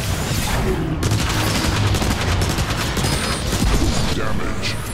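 Rapid, loud gunfire in the Transformers: War for Cybertron video game, a dense continuous barrage of shots with booming impacts filling the whole stretch, close and intense, with a voice briefly mixed underneath.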